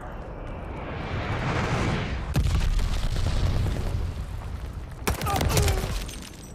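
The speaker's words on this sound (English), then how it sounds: "Enemy glide bomb incoming." Explosions in a Call of Duty: Vanguard multiplayer match after an enemy glide bomb, with sustained rumbling blasts and two sharp booming bursts over continuous battlefield noise.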